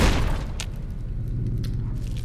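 A loud explosion booms in Fallout: New Vegas, the deep blast fading into a sustained low rumble with a few faint crackles above it.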